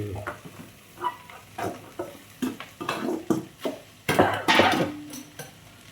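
Spoon stirring tempered khichdi in a pan with fried onion, cumin and onion-garlic chutney, giving a run of scraping, clinking strokes over a soft sizzle, close and moderately loud.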